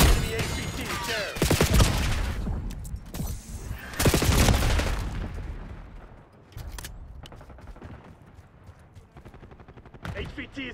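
Bursts of rapid gunfire in the Call of Duty Black Ops 6 multiplayer shooter, loud volleys early on thinning to scattered shots and distant rattle, mixed with game voice callouts.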